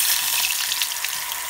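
Potato chips fry in hot oil, giving a continuous bright sizzle and crackle, close and steady with no talk over it.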